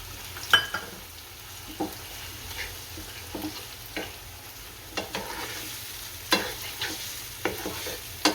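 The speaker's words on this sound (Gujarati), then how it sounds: "આપણા કાંદા સારી રીતના સડી ગયા છે, આમાં ટમેટો નાખશું," Onions and tomatoes fry in a pan with a steady low sizzle, while a utensil stirs and scrapes in sharp, irregular clacks every second or so.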